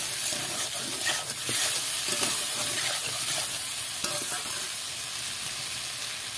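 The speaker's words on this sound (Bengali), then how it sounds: "তো এইভাবে ভালো করে ভেজে নিতে হবে" Chunks of gathi kochu (taro) fry in a pan with a continuous, even sizzle and hiss, punctuated by light stirring scrapes, close and steady with no talking.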